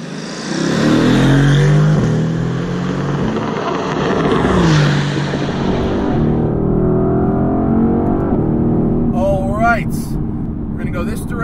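A 2020 Mercedes-AMG GTC engine rises loud and close as the car pulls away, a sustained rev swelling then settling into a steady driving drone, with talk running over it throughout.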